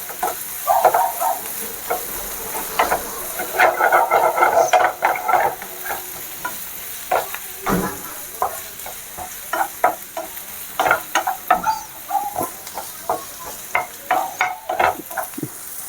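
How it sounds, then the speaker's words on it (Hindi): Chopped onion sautéing in a pan for a Maggi pocket recipe, a close sizzle with repeated scraping strokes of a spatula stirring it in uneven bursts, without any voices. "एक बॉल प्याज डाल के बिल्कुल इसको भूंज ले हल्का, लगभग 2 मिनट पकाएं प्याज को।"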